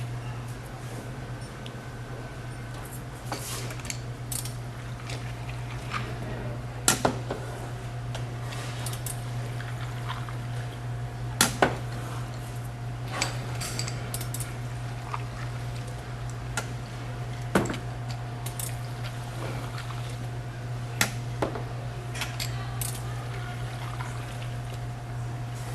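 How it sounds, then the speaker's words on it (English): A Touch and Pour Cocktail Tower dispensing five Long Island iced teas, a continuous machine hum under repeated liquid pours and small clicks, close and steady. "Now watch how fast and accurate I can pour 5 Long Island iced teas with a Touch and Pour"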